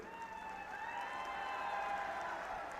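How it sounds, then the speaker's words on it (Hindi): Crowd at a political rally applauds steadily, a broad wash of clapping that stays level throughout, with a faint tonal hum running beneath it. "अभी आपने जल्दी ताली बजा दी"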